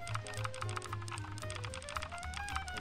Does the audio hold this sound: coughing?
no